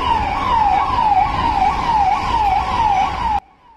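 An ambulance siren wails on a Mumbai road, rising and falling in a steady repeating cycle, loud and close, with traffic rumble underneath, then cuts off abruptly near the end.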